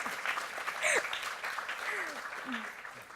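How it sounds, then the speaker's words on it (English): An audience at a tech summit fireside chat applauds, moderate clapping with speech-like voices rising above it near and far. "a round of applause"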